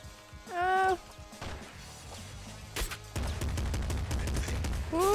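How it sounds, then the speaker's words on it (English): Machine gun fire in Nuclear Throne, rendered as dense, continuous rattling bursts of chiptune-style shots after a sharp crash, loud and close among other game sound effects. "Machine gun."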